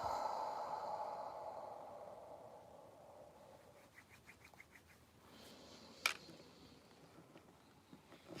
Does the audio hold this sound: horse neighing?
no